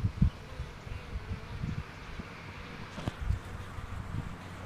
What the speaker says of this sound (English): This is the hive we got from Keith, and they seem to be doing very well. They're getting oriented to the area